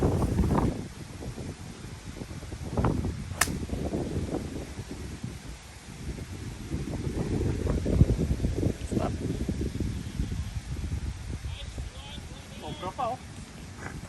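Strong wind buffets the microphone on a golf course, a steady low roar with gusts swelling and easing throughout, while people talk over it.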